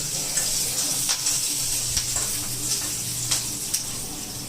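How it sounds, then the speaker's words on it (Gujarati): Chilies frying with a steady sizzle, a broad hiss and scattered sharp crackles and pops, close by, with no talking. "વિડીયો પર તો મરચા તળે છે"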